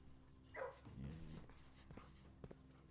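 A pet dog's faint whimpering and soft yelps in a room during a game stream, brief high cries near the start, then low murmuring under steady background noise.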